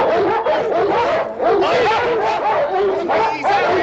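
A dog barks, yips and whimpers excitedly in a loud, close, continuous burst, with voices mixed in.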